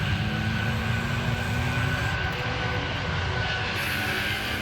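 A voice imitates a LEGO A-wing starfighter (set 75175) taking off, a steady droning engine-like roar held evenly and close throughout without a break.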